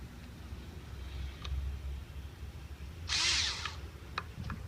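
A power screw gun snugs screws on a Chrysler air bleeder valve, giving one short whirring burst amid low background rumble and faint ticks.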